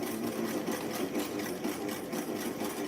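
A sewing machine stitches a tiny 1963 vintage Barbie square dancing outfit, making a steady, fairly faint whirring hum with a fast mechanical rhythm and no voices.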